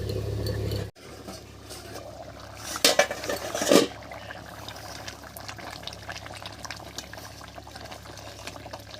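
Metal lid lifted off a cooking pot on the stove, a couple of close clanking scrapes over a soft background hiss, then quiet simmering.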